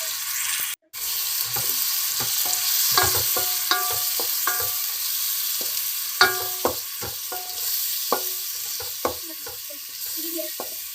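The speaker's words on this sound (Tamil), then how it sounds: "சேர்த்து நல்லா இந்த எண்ணெயிலே வதக்கி விட்ருங்க." Ground tomato sautéing in hot oil for a Tamil kuska, a steady sizzle with repeated scraping and clinking of a spoon against the pan, close and moderately loud, with no talking.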